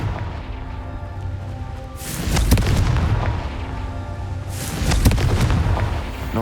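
Two heavy booming blasts from the Confringo fire spell in the Hogwarts Legacy video game, each a loud broadband burst with a rumbling tail, landing about two and a half seconds apart over a steady low game ambience.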